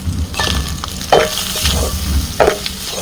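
Egg and rice being stirred in a pan for a quick bachelor-style egg rice: a spatula scrapes and pushes the food in repeated strokes over a low frying sizzle, close and fairly loud, with no talking.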